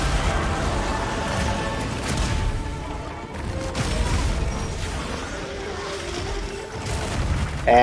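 Explosions in the video game Monster Hunter Wilds, a dense, continuous wash of booming blasts and rumbling crashes that stays loud throughout, with a faint voice underneath.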